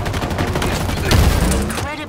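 Rapid video-game gunfire from a Halo pistol and other weapons crackles in a dense burst of shots, with a voice speaking over the action.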